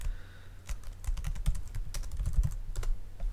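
Typing on a computer keyboard: a quick, uneven run of crisp key clicks, fairly close and alone, with a soft background hum.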